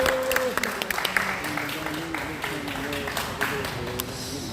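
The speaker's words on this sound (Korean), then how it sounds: "정강훈 목사님의 메시지 여러분 큰 박수로 청해드리겠습니다" Applause at an urgent press conference held by a pastor, a moderately quiet, continuous patter of clapping with scattered voices underneath.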